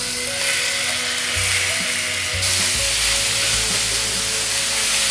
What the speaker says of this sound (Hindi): एक पैन में हम तकरीबन 1 टेबलस्पून तेल डाल देंगे। जो चिकन हमने मैरिनेट किए हैं वो भी डाल देंगे।